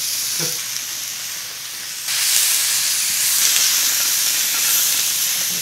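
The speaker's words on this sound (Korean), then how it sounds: "고기도 다 넣고 볶아줄게요" Japchae ingredients, including carrot, bell pepper, shiitake and wood ear mushrooms and meat, stir-fried in a pan, with a steady close sizzle that jumps louder about two seconds in and holds as a dense hiss, with no talking.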